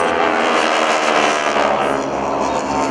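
North American SNJ single-engine tandem-seat WWII trainers flying in a tight diamond formation with smoke on at an airshow, producing a loud, steady propeller drone that holds throughout.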